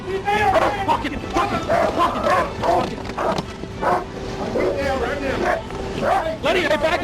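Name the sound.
police dog barking during arrest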